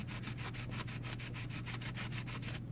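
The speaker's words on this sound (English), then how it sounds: "Again, 220 grit sandpaper, just to pick it up," Sandpaper of 220 grit rubbed over an Umarex Legends M1A1 airgun to weather its finish, a steady rhythmic back-and-forth scratching of about sixteen quick strokes, close and alone with no talk.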